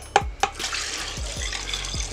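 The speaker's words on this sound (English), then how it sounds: "And then we're gonna go in with a little bit more chicken stock." Chicken stock pours into a pressure cooker, a continuous splashing liquid stream with a few sharp clinks and knocks at the start, close and fairly loud.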